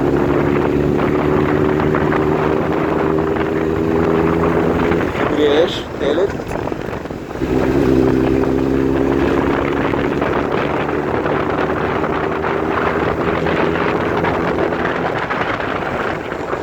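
A motorcycle engine runs steadily close by as the rider shifts into third gear, with a brief dip and change in pitch at the shift, then a steady drone again, accompanied by wind noise.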